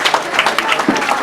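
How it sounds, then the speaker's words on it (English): Crowd at a grasstrack motorcycle race meeting applauding the three winners, a short burst of scattered clapping with voices mixed in over the noisy outdoor background. "But let's give a big round of applause for all 3."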